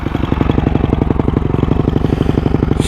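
A used dirt bike with a worn, slightly smoking top end idles close up at a somewhat high speed, its engine thumping in a fast, even, steady rhythm.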